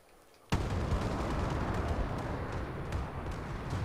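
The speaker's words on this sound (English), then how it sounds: "I think I got the final kill with that bombing run." Bombing-run explosions in the video game Call of Duty: Advanced Warfare on Xbox burst in with a sudden heavy boom, then roll into a dense, sustained rumble of blasts that stays loud and close for several seconds.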